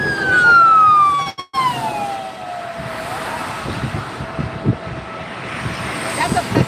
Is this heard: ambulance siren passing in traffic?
yes